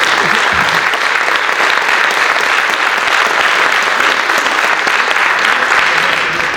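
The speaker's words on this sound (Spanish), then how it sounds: "yo sí os pido un aplauso, no para mí, pero para ellos os pido un aplauso" Loud, dense applause from the audience at a town council public assembly, a continuous roar of many hands clapping at close range with no break, steady from start to finish.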